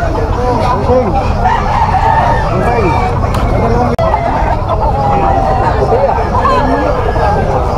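Young roosters (stags) crow repeatedly at a busy poultry market, several birds overlapping with clucking amid steady crowd babble and people talking nearby.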